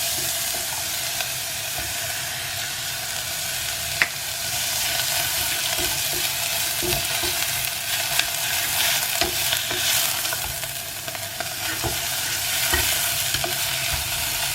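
Ridge gourd peel and coconut sautéing in a hot pan for chutney, a steady close sizzle with occasional scrapes and stirring clicks throughout, no talk.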